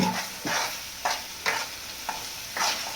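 A spoonful of homemade desi ghee sizzles in a pan for dhaba-style palak paneer, heard as a steady close frying hiss. Bursts of stirring scrape through it about every half second.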